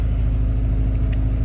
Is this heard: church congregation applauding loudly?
no